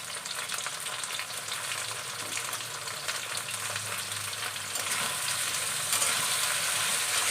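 Chopped onion sizzles in hot oil alongside pieces of taro, a steady, dense frying hiss that grows slightly louder partway through, with no voices over it.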